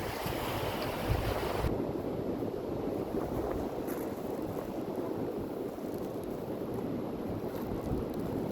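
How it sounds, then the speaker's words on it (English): Ocean waves washing in on the Spanish coast, a continuous roaring surf rumble heard from close by, mixed with gusty wind noise buffeting the microphone. "I think the waves do come in."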